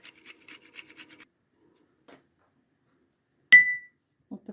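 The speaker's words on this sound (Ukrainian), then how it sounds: "Тру часник." A quick run of soft rasping scrapes of garlic rubbed on a grater, followed by a single bright clink and a few faint knocks.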